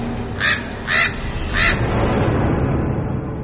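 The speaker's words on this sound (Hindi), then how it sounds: "कुछ कौवे वहां छत पर बैठे आवाज कर रहे थे" Crows perched on a rooftop give three harsh caws in quick succession, loud and close, followed by a steady low background rumble.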